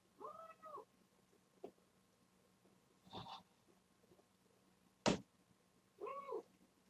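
A cat meows several times indoors, with short separated calls that are fairly faint against a quiet room and a couple of sharp knocks in between.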